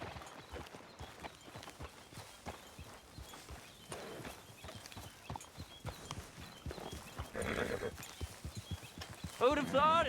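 Horse hooves clip-clop at a trot in Red Dead Redemption 2, a quiet steady rhythm of hoofbeats along a beach path, with characters talking over the footfalls throughout.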